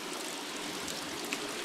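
Dirty water flows steadily from an opened valve on a fish tank used for grass carp, a continuous close, broadband rush with no talking.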